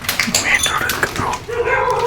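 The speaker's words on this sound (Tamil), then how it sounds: "நாய் குலைக்குது" A dog nearby barks in short yips and whimpering bursts beside a main road. Voices can be heard talking over it.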